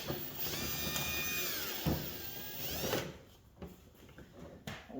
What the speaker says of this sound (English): Get the drill back out.